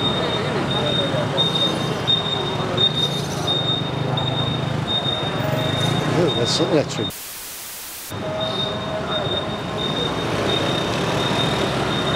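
An intercity train passes on a Jakarta street during a city walk, a sustained rumbling roar with a high whine, briefly cut by a silent gap before the noise resumes.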